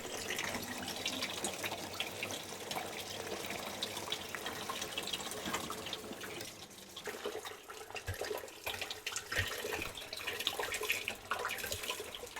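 Water rushing and gurgling down a freshly unclogged sink drain, a continuous faint splashing flow with irregular bubbling glugs, close and without talk.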